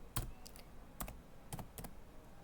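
Keys on a computer keyboard are struck in a slow, sparse run of soft, close taps with short pauses between them, quiet in a still room.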